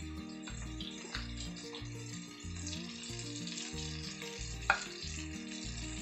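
Chopped cabbage, capsicum and other vegetables sautéing in a hot pan, a continuous sizzle with rhythmic stirring scrapes and a sharp clank near the end, close up with no talk.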